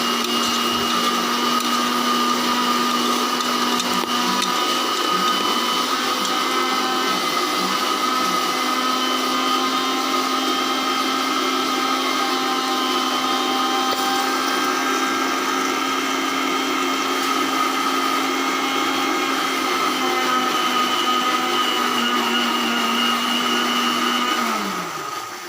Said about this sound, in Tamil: அது தேங்காய் ஜீரகம் நம்மளுக்கு கிரைண்ட் ஆகின்னு இருக்குது